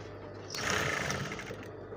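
A sewing machine stitches a princess dart seam on a padded bustier, starting with a short, steady burst of fast mechanical whirring close by, then easing off.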